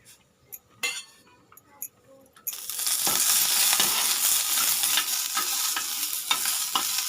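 Ivy gourd, peanuts and green chillies tossed into hot oil, with a few clinks of a utensil on the pan before a loud, continuous sizzle sets in and carries on under repeated stirring.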